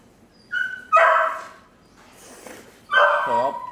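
A dog barks and yips nearby in a few sharp, separated bursts, the last one trailing into a whiny, whimpering yelp, with a little background talk.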